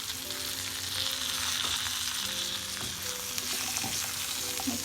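Fried prawns go into a hot pan of sizzling chilli prawn sauce while cooking restaurant style; a steady, close crackle and hiss runs throughout with faint scraping stirs and no talking.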